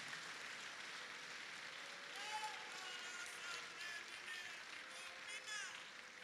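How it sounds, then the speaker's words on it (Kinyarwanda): A church congregation applauding during a Easter service, sustained clapping from many hands lasting the whole stretch, with voices murmuring and a few cheers mixed in. "Twongera Imana amashyi menshi cyane"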